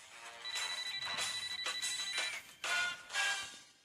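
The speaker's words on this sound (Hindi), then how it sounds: "फोन की घंटी बजते ही" A telephone rings in bursts of trilling bells, several rapid pulses followed by short pauses, fairly close and clear with no talking.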